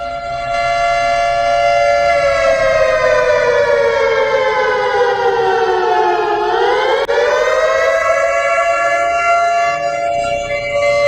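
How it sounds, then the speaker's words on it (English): An air raid siren wails loud and steady for about eleven seconds, its rising and falling tone dipping low near the middle before climbing again, with no other sounds over it. "you hear the air raid sirens going off"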